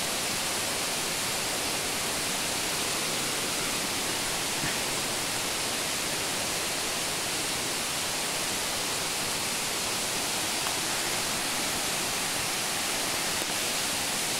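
Water from an underground stream gushes out of the ground in rural Minas Gerais, a dense, steady rushing roar that fills the whole stretch with no pauses or voices.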